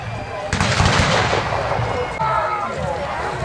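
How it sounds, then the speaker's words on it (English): Cannon fire at a battle reenactment: a loud, close blast at the start rolls into a long rumbling roar that stays dense and noisy to the end, with murmured voices underneath. "One of the other arms is the artillery."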